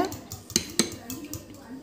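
Eggs whisked in a bowl for a vanilla cake: a soft, steady scraping with two sharp utensil clinks against the bowl, close and fairly quiet.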